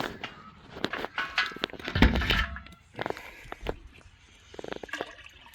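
Maple sap dumped out of a plastic bucket outdoors, with irregular close splashing and gurgling pours in uneven bursts and a few knocks of the bucket between them.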